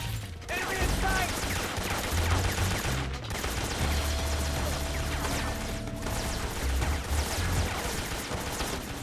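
Rapid gunfire bursts in the stealth video game Metal Gear Solid 3, dense and continuous over booming low-end effects, with a voice talking faintly underneath.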